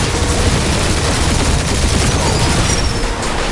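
Sustained gunfire barrage in the Guardians of the Galaxy video game, a dense, loud continuous roar of shots and blasts with no clear gaps between them.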